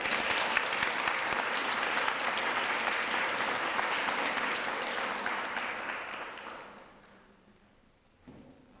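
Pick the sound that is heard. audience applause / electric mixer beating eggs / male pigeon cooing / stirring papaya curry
audience applause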